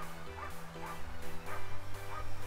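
A dog barks repeatedly in short yipping bursts, loud and close, with some whimpering tones in between.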